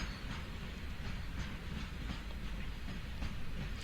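A train running steadily on rails with a continuous rumbling roll and faint clickety-clack, a dense even sound with no voices, used as a calm meditation backdrop.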